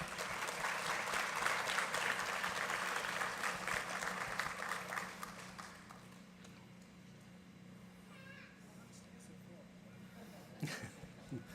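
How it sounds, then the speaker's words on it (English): Scattered applause from a small audience at a county school board meeting, loudest at first and thinning out midway, with low room hum and faint voices underneath. "Please give them a round of applause as well"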